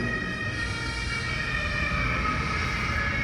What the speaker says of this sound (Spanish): escucha, por ejemplo, una ambulancia que va pasando, escuchan el sonido